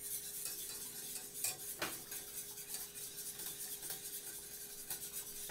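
A spoon stirs mac and cheese in a pot: soft, continuous scraping with a couple of sharper clinks against the metal near the start, faint and close, with no talk.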